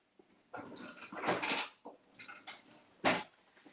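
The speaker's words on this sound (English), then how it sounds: "So I'm just going to get a spoon, and we're going to stir it up." A spoon scrapes and knocks around a bowl while stirring dry banana bread ingredients (flour, sugar, pecans, cinnamon, salt and baking soda), making several close, irregular bursts of clatter and scraping.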